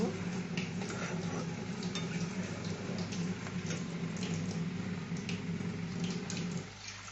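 Fish curry with ginger paste stirred and sautéed in a pan: a steady sizzle runs throughout, with a spoon scraping and clinking against the pan in irregular strokes, recorded close.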